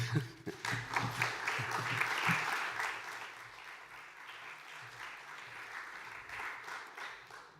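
Conference audience giving long applause after a talk, a full room clapping loudly and steadily at first, then settling into a softer, continuous patter that carries on to the end.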